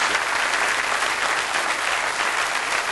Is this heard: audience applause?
yes